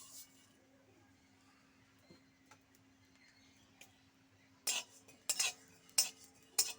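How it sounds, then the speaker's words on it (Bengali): Cumin seeds being stirred in a hot dry kadai, a low steady hum underneath, then a handful of sharp scraping, clinking strokes of the spoon against the pan near the end, close and fairly loud. "হালকাভাবে নাড়বো এইভাবে।"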